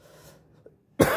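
A single abrupt, loud cough right at the end, close to the listener, after a near-silent pause.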